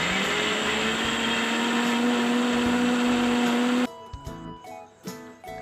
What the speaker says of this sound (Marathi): हे दाणे आपल्याला मिक्सरमध्ये फिरवून बारीक करायचे आहे